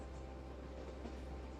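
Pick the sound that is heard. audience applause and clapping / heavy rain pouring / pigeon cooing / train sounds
train sounds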